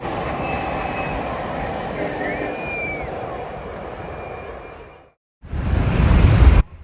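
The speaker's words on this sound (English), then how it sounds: "what we were really pointing our cameras at was Union Pacific 1943 rolling next to Weber River" Union Pacific locomotive 1943 rumbles past at a distance along the Weber River with a long horn note over a steady roar, then after a brief silence a louder, closer rushing passage follows.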